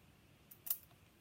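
Scissors snip the end off a turkey quill: one quiet, short crisp cut in a hushed room, a tiny click just before it.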